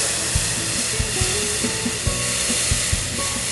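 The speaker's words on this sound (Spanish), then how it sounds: "Ahorita lo que hacemos ya que sofreímos, vamos a agregar caldo de pescado." Fish broth poured into a hot pan over a fried mixture of pasilla chili and plenty of garlic, producing a steady loud sizzling hiss with small bubbling pops throughout.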